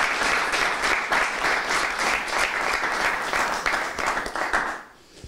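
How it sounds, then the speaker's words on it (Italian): Audience applause at a film press conference, steady dense clapping from a room of people that tapers off near the end. "vorrei veramente un applauso per Silvio Boni"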